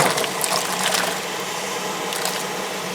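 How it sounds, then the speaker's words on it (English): Cut turnip pieces drop into a half-full stock pot of water, making a continuous busy sloshing and splashing with brief bright plops layered over it, close by. "I'm just going to start, putting my turnips in"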